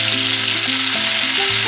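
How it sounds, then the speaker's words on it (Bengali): Ground green peas frying with asafoetida in a pan, a steady close sizzle with faint stirring scrapes throughout, no voices. "প্যানে অল্প একটু হিং অ্যাড করেছি, আর এই বেটে রাখা কড়াইশুঁটিটা অ্যাড করে দেবো। একটু ভালো করে ভাজা ভাজা করতে হবে।"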